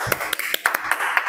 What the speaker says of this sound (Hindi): तालियां बजाएं जी।